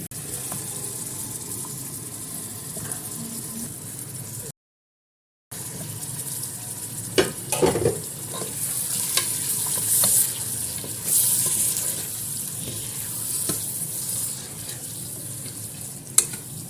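Chicken pieces going into browned onions in a pan for chicken curry: a continuous loud sizzle and frying hiss with scraping and stirring clatter, brief gap midway, no voices.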